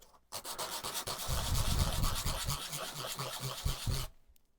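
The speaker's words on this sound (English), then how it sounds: "got some sandpaper." Sandpaper rubbing back and forth on an oak phone holder, a close, steady rasping scrape lasting about four seconds before stopping abruptly.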